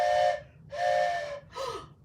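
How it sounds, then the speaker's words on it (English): Three loud blasts of a steam train whistle, each a sustained harmonic hoot, the last one shorter and bending downward in pitch. "Now the whistle blows."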